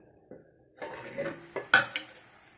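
A metal lid lifts off a pot of beetroot stir-fry, giving a couple of clanks and one sharp metallic clatter among lighter utensil knocks, close and fairly loud with no talking.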